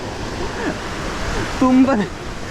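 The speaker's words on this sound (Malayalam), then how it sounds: "അവിടെ വെള്ളച്ചാട്ടം" Rushing water spills over a check dam as a waterfall on a morning cycle ride: a steady, loud, close roar that fills the whole stretch, with a brief voice rising over it.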